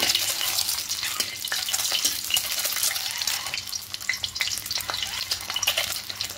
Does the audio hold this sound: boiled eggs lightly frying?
yes